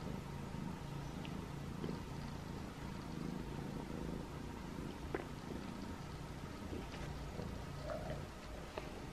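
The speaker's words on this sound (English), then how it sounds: "Can you hear him purring?" A cat purrs softly and steadily close by, a low continuous rumble under faint background noise, with a few small clicks and rustles along the way.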